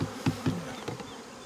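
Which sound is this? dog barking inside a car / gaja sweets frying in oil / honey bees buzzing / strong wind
honey bees buzzing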